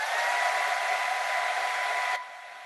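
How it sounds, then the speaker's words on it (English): A hair dryer blows with a steady, loud, close whoosh of air used for drying paint on a model figure. The sound drops to a lower setting near the end, with no talk. "Actually, I have here the hair dryer, so I'm gonna do that."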